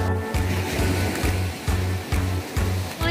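Calm sea waves wash onto a white-sand beach at Pulau Dua in Aceh, a steady low rush with gentle, regular surges breaking every half second or so, close and fairly loud.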